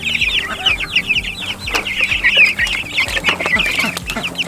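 Layer and broiler chickens cluck and chatter steadily on a farm, a dense overlapping chorus of close hen calls with low rhythmic thumps beneath.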